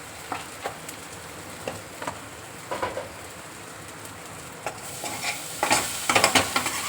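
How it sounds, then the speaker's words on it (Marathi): Vegetables for traditional Marathwada modak bhaji stir-fried in oil with turmeric and ground masala paste, giving a soft steady sizzle broken by scraping spoon strokes that grow louder and busier toward the end. "छान परतून घेऊ तेल करून"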